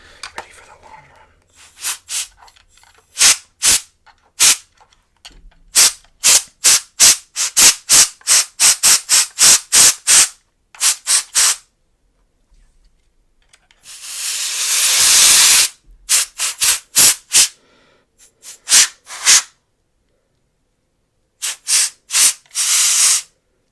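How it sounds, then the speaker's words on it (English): A can of compressed air spraying a keyboard clean in short, sharp hissing bursts, many quick blasts in uneven clusters with one longer sustained spray, close and crisp between silent gaps. "compressed air stuff is definitely high powered"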